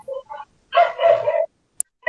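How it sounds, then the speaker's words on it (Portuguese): A small dog barks twice at close range, each bark a short, sharp burst, followed by a brief faint click and the start of another sound. "se eu só pedir para botar minha cachorrinha para dentro"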